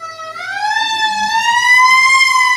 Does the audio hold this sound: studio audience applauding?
no